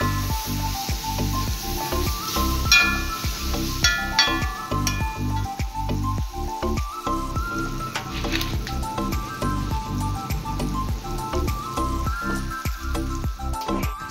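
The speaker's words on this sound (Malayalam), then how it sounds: "നമ്മുടെ തൊണ്ട് കളഞ്ഞ് വെച്ചിരുന്ന മാങ്ങയും കൂടെ ഇതിനകത്തേക്ക് ഇട്ടിട്ട് ജസ്റ്റ് ഒന്ന് പതുക്കെ ഇളക്കി കൊടുക്കുന്നുണ്ട്" Peeled ripe mango stirred gently into a simmering Kerala-style curry, with soft squishing, scraping and a steady bubbling sizzle close up, and no voices.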